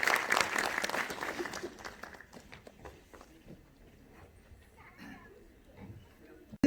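Crowd applause with some cheering at the Yuvaa Conclave, Bharat Mandapam, New Delhi, loudest at the start and fading to scattered clapping and murmurs.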